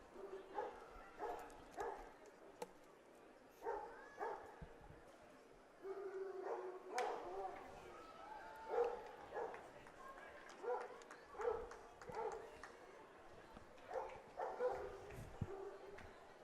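A Basset Hound and a Bernese Mountain Dog bark and yip in short, scattered bursts at a baseball game at Legends Field, fairly faint under steady commentary and crowd ambience.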